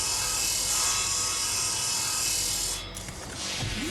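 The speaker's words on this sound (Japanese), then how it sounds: "危ないよね、このドリル。" A rotary drill in the space survival game Breathedge gives off a steady, grinding mechanical whir that runs continuously for a few seconds, then briefly dips and resumes.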